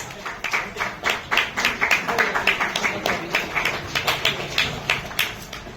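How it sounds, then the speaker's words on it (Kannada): Steady applause from an audience at a community association ceremony honouring SSLC and PUC graduates, many hands clapping in a dense, even patter that holds throughout at moderate loudness, close and unbroken. "ಎಲ್ಲರೂ ಜೋರಾಗಿ ಚಪ್ಪಾಳೆಯನ್ನು ಹೊಡೆಯುವ ಮುಖಾಂತರ ಈ ಕಾರ್ಯಕ್ರಮ ನಡೆಸ್ಕೊಡ್ಬೇಕು ಅಂತ ಕೇಳ್ತಾ ಇದ್ದೀವಿ"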